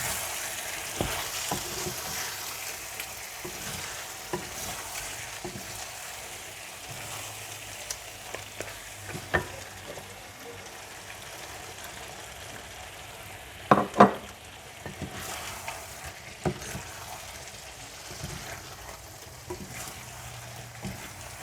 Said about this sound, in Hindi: जब मसाला अच्छा सा भुन जाए, तेल अलग हो जाए, तो आप इसमें ऑलिव्स डालकर मिला दें